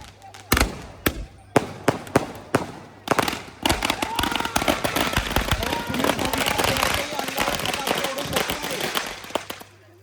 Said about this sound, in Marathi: बरेच फटाके टाकलेले आहेत